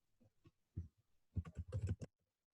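Computer keyboard typing a command into a code editor: a quick run of close, crisp keystrokes that starts sparse and speeds into a dense burst, heard alone with no talk.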